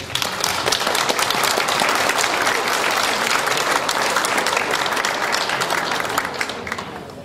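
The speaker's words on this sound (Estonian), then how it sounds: "Aitäh, Daniel, ja suure aplausiga!" Loud, close applause at a conference, many people clapping in a thick continuous burst that holds steady before tapering slightly at the end.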